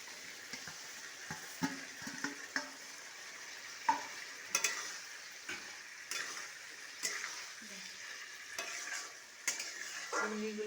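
Shrimp fry in masala as they are stirred, a soft background sizzle punctuated by repeated scraping and tapping of a spoon against the pan, no speech.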